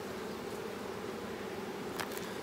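Honey bees hum from an open hive where they are capping honeycomb with wax, a continuous close buzzing drone with no voices.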